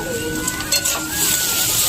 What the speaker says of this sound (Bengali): উচ্ছে আলু ভাজা হচ্ছে